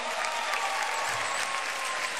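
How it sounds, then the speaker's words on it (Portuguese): A church audience applauds a birthday celebrant during a service session, a dense, steady burst of clapping from the crowd that fills the whole moment with no gaps. "Salve de palmas, nosso aniversariante."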